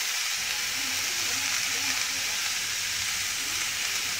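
Carrot, cabbage and tomato sauté in a pan for uppuma, giving a steady, even sizzle and hiss that runs unbroken throughout, close and moderately loud.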